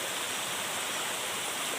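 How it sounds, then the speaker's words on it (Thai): Sixth tier of the Khao Sip Ha Chan waterfall in Chanthaburi as rain begins, a dense, even rush of falling water filling the air, continuous and close with no pauses. "ตอนนี้ก็อยู่ที่น้ำตก"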